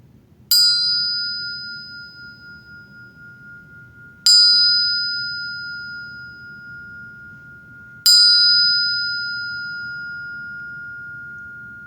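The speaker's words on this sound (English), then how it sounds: "So with that, I'll sound this triple bell." A triple meditation bell rings three times at even intervals of about four seconds, each strike bright and clear, then ringing on in a long fading tone in a quiet room.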